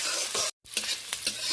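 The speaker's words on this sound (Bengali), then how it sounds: "পেঁয়াজটা বেশ কয়েক সেকেন্ড ধরে ভালো করে নেড়ে চেড়ে নিচ্ছি" Chopped onion stirred into hot oil with tempering spices for an elephant-foot yam and prawn curry, a steady sizzle with scraping stirs, broken by a brief silent gap midway.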